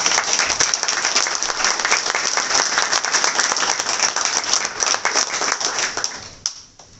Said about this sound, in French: Je souhaite qu'on les applaudisse très fort.